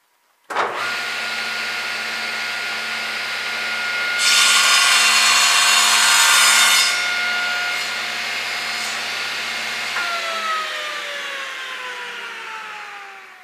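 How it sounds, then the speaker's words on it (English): A table saw whines steadily, rising into a louder, harsher cutting roar for a few seconds midway as it cuts an acrylic pen blank, then settles back and winds down. "we're going to actually go ahead and cut this on the table saw"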